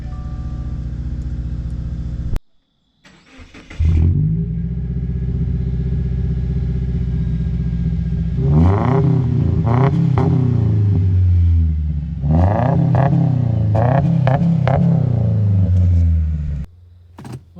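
A non-turbo 2.0-litre four-cylinder engine in a 2016 Subaru Impreza 2.0i Limited with 60k miles is started up, then rumbles at a steady idle and revs through several rising and falling surges, loud and close, with no talking.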